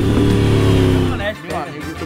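A new motorcycle's engine revs hard, a loud sustained roar that cuts off after about a second, followed by voices talking.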